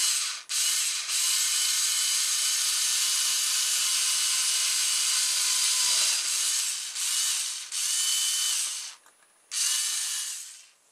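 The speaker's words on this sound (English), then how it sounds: "I need to drill a hole in the middle now." A power drill whines steadily at high speed while widening a hole in a small wheel made from a VHS cassette part, pausing briefly several times before spinning up again, close and loud.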